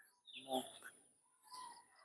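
Chicks in a brooder peep in two short bursts of high, thin chirps, close by and fairly faint, with a brief gap between them.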